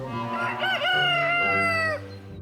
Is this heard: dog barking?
no